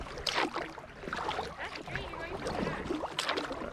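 A kayak paddle dips and splashes on water in Alaska, close to the microphone, with soft rhythmic strokes heard under quiet talking and a little wind.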